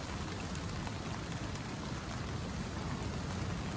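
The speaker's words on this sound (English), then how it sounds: "As you can probably hear, it's raining." Steady rain drumming on a tent during a wild camp in the Peak District, a dense continuous patter that stays even and close throughout with no voices.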